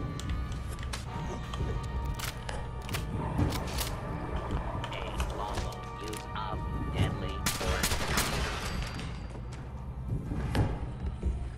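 Gunfire in the Fallout 4 Nuka World add-on, a dense barrage of repeated shots and thuds against a turret near a gantry, continuous and loud over a busy game backdrop.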